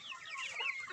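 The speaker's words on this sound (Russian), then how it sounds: "Вот там есть одна курочка, прям вот такая вот, как маран." A hen in a mixed farmyard flock of banded chickens gives a quick run of bright, close clucks, fairly soft and heard on its own without voices.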